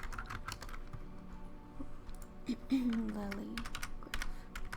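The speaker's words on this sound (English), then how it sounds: "Hopefully my typing isn't too loud because my microphone is right next to my keyboard." Rapid clicking keystrokes on a computer keyboard sit right beside the microphone, faint and steady in irregular bursts, under a person speaking softly.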